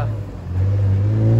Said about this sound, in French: Oh le turbo, j'adore.